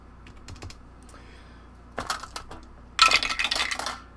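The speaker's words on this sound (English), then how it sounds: "And just going to roll the percentiles a couple of times" Percentile dice clatter and tumble on a tabletop during a tabletop roleplaying game, a few faint clicks followed by two louder bursts of rattling, the last roll longest and busiest.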